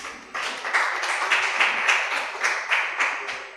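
An audience at a press and public engagement event claps for a panel of speakers, a steady patter of many hands lasting a few seconds after a quiet start.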